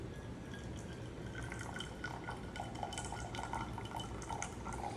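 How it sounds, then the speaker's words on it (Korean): Water from a drip kettle poured into a one-stop coffee drip kit, a soft steady trickle with faint drips and light clinks, fairly quiet and continuous with no talk. "정량으로 계량한 물을 준비가 완료됐으면 드립포트에 담아서 이렇게 부어주시면 되는 겁니다"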